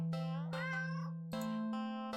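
A black cat meows several times in clear, close succession, each call tonal and drawn out, with a longer wavering cry in the middle and a steady low hum running underneath.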